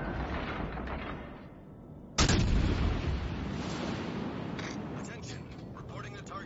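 Warship guns firing in World of Warships Legends, with the cruiser Baltimore engaging a Bismarck: one sudden heavy artillery boom that rolls on into a long rumbling decay, with someone talking over the battle.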